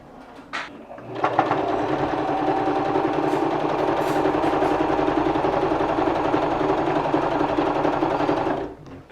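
A sewing machine stitches a fabric face mask, running as a steady, close, rapid whir for about eight seconds, with no talk over it.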